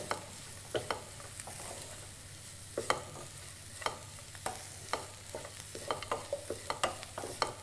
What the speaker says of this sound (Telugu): ఒక స్పూన్ కొబ్బరి పొడి వేసి ఇదంతా బాగా పట్టేలాగా కలుపుకోవాలి